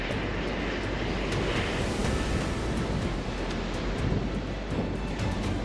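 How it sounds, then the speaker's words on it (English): Ocean waves crash against coastal cliffs with blowholes in outback Australia, a loud, continuous roar of surf and spray that washes steadily without pause, with no voices. "The waves crash into the cliffs here"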